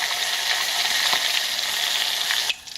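Fresh spot prawns deep fry in hot oil with a loud, dense, steady sizzle and crackle that drops away sharply near the end.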